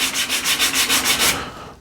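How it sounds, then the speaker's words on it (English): Rhythmic back-and-forth sanding of a yew wood box with a sanding pad, about nine quick scratchy strokes close up, then easing off at the end. "So I'll use a pad, sanding pad like this,"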